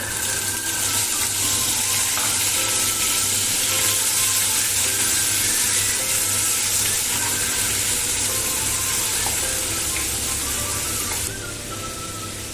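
Whole spices with white cumin and a spoonful of ginger paste sizzling loudly in hot oil, a steady close hiss that eases slightly right at the end.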